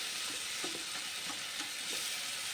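Tomatoes sautéing in a pan for a banana flower curry, a steady close hiss of frying with a few soft stirring scrapes, no voices.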